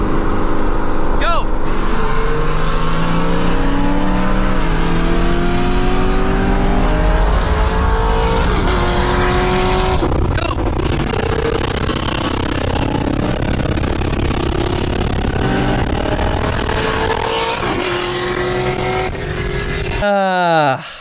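A full-bolt-on Ford Mustang on a 93 tune is driven hard, its engine revving loudly and climbing through gears in a sustained roar, with speech faintly beneath and a final sharp rev at the end.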